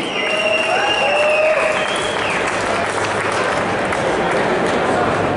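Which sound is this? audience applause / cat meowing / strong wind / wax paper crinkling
audience applause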